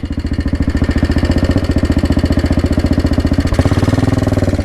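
A Royal Enfield Bullet 500 single-cylinder motorcycle engine, just kickstarted, runs loud and close with a steady, rapid thumping beat, shifting slightly in pitch near the end.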